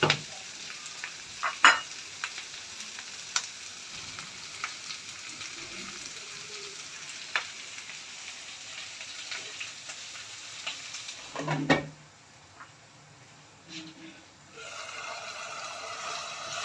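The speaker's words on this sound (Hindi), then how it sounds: "तो ये इनको भी मैं फ्राई कर लूँगी, ये भी 4 से 5 मिनट में फ्राई होंगे।" Bitter gourd fries in a pan beside keema, producing a steady low sizzle with occasional clicks and spatters; near the end a louder scrape or pan movement briefly interrupts before the gentler frying resumes.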